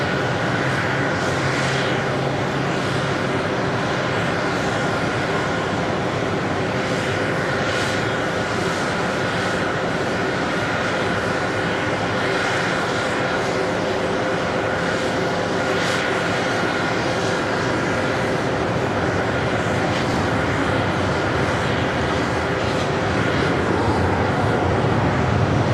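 An American Airlines jet airliner arriving on runway 4 Left at JFK, a steady broad engine roar holding loud and continuous throughout with no talk over it.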